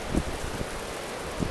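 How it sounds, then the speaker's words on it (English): Heavy rain storm pours down in a steady wash of noise, with brief gusty bursts and knocks near the start and end, loud and close to the microphone in a yard during fast-moving severe weather. "wow, that's a lot of rain in a short period of time."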